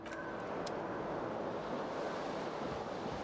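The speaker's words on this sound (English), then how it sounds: "Cold wind." Cold wind blowing through a broken window in the video game Disco Elysium, a steady full-bodied roaring gust like surf, with a couple of faint ticks at the start and no voices.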